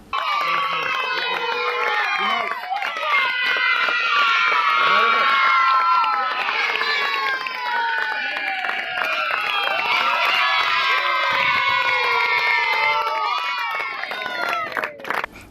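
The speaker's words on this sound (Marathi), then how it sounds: "यावेळी उपस्थित खेळाडूंनी एकच जल्लोष केला" A crowd of cricket players cheering and shouting together at a trophy ceremony, loud and sustained throughout, with overlapping whoops and excited voices.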